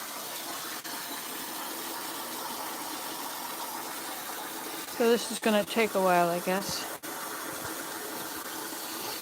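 Water runs steadily from a tap into containers for indoor potato beds, a continuous gushing hiss with a faint engine-like hum, while someone speaks over it partway through.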